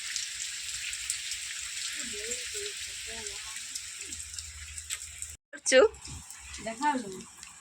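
Steady village rain patters and hisses in the background while a voice speaks over it, with a brief dropout and a louder burst near the end.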